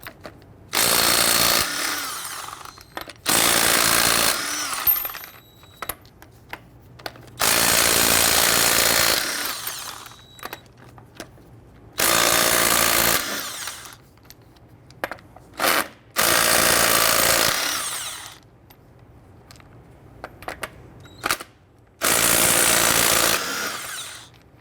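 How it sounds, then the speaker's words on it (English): An impact wrench with a 22mm socket removes the lug nuts from a 2007-2014 Cadillac Escalade wheel, firing in about eight loud, close, rattling bursts of one to two seconds each, separated by quieter pauses, with no speech. "I'm going to use a 22mm socket to loosen and remove the lug nuts."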